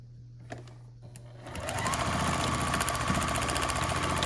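A sewing machine stitches quilt block fabric on a paper-pieced two-inch block. A low hum and a few clicks come first, then a loud, rapid, steady run of stitching close by.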